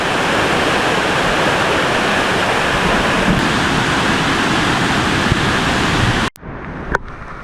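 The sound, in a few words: waterfall in the Swiss Alps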